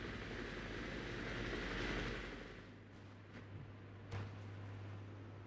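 Helicopters arrive in the war game Armored Brigade, a broad rotor-and-engine rumble that swells and then eases, with a few sharp distant gunfire cracks near the end.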